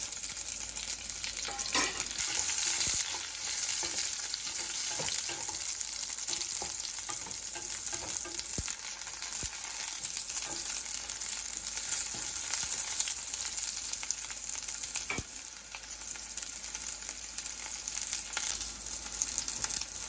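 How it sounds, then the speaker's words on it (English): Onions fry in a pan for sambar, giving a continuous close sizzle with intermittent scrapes and taps of a spoon stirring, steady and without any talk. "Now let's add the onions."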